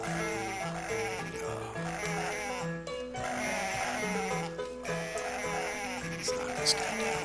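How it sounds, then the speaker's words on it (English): Cartoon sheep bleat repeatedly in the Dreamcast game Cool Herders, the calls rising over a busy, looping game soundtrack with a bouncy bass line. "The sheep are not affected by the conveyor belts at all."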